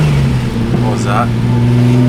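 Close-up interior sound of a car with MASSIVE FLAMES from a recently redone subframe, its engine droning steadily at a constant pitch with a brief rising whistle like turbo spool midway, all quite loud throughout.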